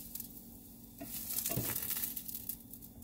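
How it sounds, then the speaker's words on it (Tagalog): Chicken curry ingredients sautéing in a pan over lowered heat, a steady close sizzle and fry with a brief louder burst of stirring and scraping midway. "hinaan natin yung apoy kasi magigisa tayo ng ating ingredients"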